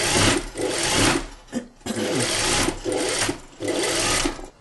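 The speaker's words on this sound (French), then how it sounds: "Donc là, tu surfiles la couture d'épaule" An overlocker serges a freshly sewn shoulder seam on a belted shirt-tunic, whirring in three loud, close bursts of fast stitching separated by brief pauses, with no talking.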